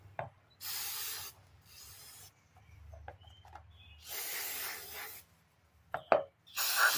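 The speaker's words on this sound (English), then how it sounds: "We need to clean our bowl, get it good and clean, get all the crud out of it." Parts cleaner is sprayed in several close hissing bursts while a Cub Cadet push mower's carburetor bowl is cleaned, with faint handling clicks and rubbing between the sprays.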